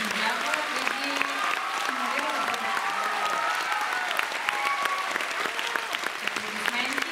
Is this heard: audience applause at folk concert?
yes